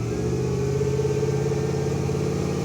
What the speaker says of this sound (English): We're taking Boosted Bertha out for a test drive